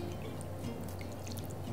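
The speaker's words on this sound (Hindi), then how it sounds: "तो अब आप यहाँ पर पानी डालना।" Water is poured into softened semolina (suji) during cooking, a faint, steady trickle of liquid with no voices.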